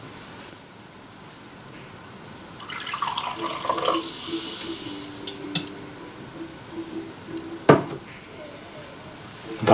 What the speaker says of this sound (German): ich gieße mir vielleicht noch einen Schluck ein